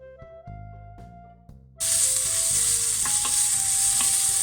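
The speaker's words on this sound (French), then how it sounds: "Une fois que l'huile est chaude, vous mettez les oignons et vous les faites revenir jusqu'à ce qu'ils prennent un peu de couleur" Onions dropped into hot oil in a pan, a sudden loud hiss bursting out after a quieter start, then a steady close sizzle with occasional stirring scrapes.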